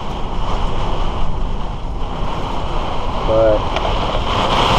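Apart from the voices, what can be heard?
strong wind gusts during a storm outside an RV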